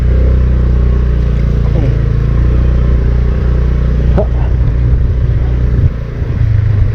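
A Honda Beat scooter engine labors uphill on a slippery mountain track, a loud, steady, close drone that holds almost unbroken for the whole stretch, dipping briefly near the end.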